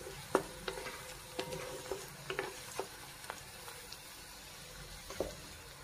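Onion frying in a pan for palak paneer, a soft background sizzle punctuated by scattered clinks and scrapes of a spoon stirring, close and fairly quiet.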